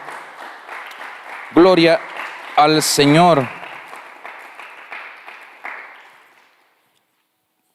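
A church congregation at a Sunday communion service claps in a diffuse, sustained wash of applause that fades out to silence, while someone speaks loudly over it.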